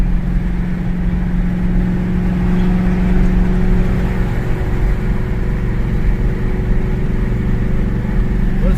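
Steady, loud engine drone from a Chevrolet Camaro Z28 on the road, a continuous hum that rises slightly in pitch as the car pulls in gear, with no talking.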